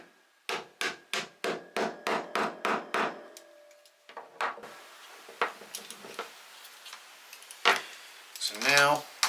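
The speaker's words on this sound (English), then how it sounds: "take my tool, place it on top of the prongs and hammer that through" Nine quick, evenly spaced metallic taps of a small hammer on a hand tool set, pressing a pronged magnetic clasp's prongs through, ring out in a row, followed by a few scattered knocks and handling clatter.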